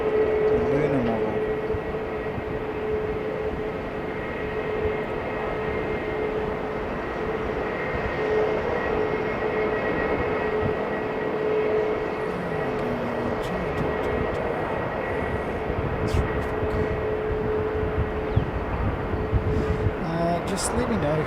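A small Learjet business jet flies near Sydney airport, its engine roar a steady, moderately loud wash with a sustained whine, heard outdoors under wind noise.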